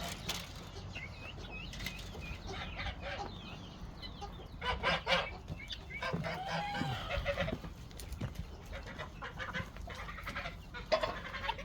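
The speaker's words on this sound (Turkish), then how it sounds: "Beçler annelerini arıyorlar" Guinea fowl chicks in a farm coop call out for their mothers with repeated high, thin peeping cries, scattered across the whole stretch, some close and some farther off, with occasional clucks and wing flaps.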